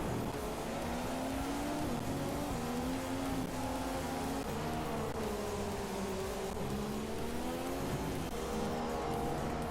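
Formula 1 cars racing in the game F1 2015, several high-pitched engines whining and shifting pitch together in a dense, continuous drone, loud and steady throughout.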